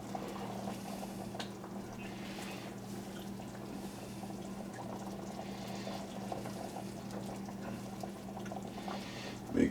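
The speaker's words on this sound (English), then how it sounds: "I'm just boiling it down a little bit, making sure, and I'm stirring it so it doesn't burn" A pot of Alfredo sauce gently bubbles and simmers while a utensil occasionally scrapes and stirs, quiet and steady under a low background hum.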